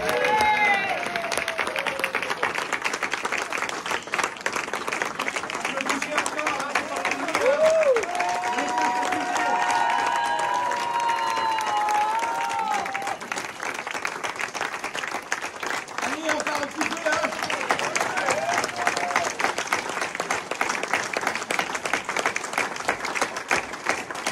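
A church congregation applauds and cheers in praise during a worship service, with loud sustained clapping and shouts that carry on for over twenty seconds while a voice and sung tones rise over the crowd.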